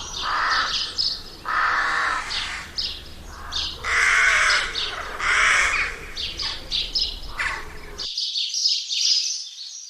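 A crow caws repeatedly in an animated fable setting, loud and close, with harsh calls in uneven bursts over steady background ambience before cutting out near the end.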